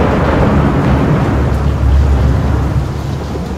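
Loud rain with rolling thunder in the horror game Layers of Fear, a deep sustained rumble under a constant dense downpour that swells midway and then eases slightly.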